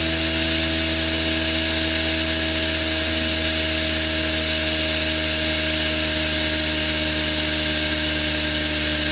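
An air-powered turbine fed by an air compressor at about 50 psi spins with a loud, steady high-pitched whine and hiss, close and unbroken, easing slightly in speed; no talking.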